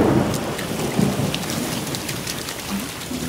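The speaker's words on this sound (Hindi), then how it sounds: "बारिश बहुत हो रही है," Heavy rain pours steadily onto surfaces while rumbles of thunder roll through, loud and close, with no voices.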